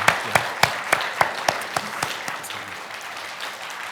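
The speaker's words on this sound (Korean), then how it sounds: "우리 큰 박수로 두 분 장로님, 권사님 축복하도록 하겠습니다" A church congregation claps during a Sunday worship service, a burst of sharp distinct claps that thins to a softer, sparser patter over a few seconds.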